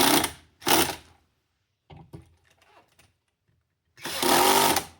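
Power screwdriver on a low torque setting driving screws on a Technics SL-1210MK2 turntable, several short close whirring bursts separated by quiet pauses, with faint handling clicks in between.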